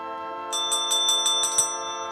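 A small bell rings six quick bright strikes in a steady rhythm over a sustained tonal drone, then leaves a fading ring, fairly clear and unaccompanied by speech.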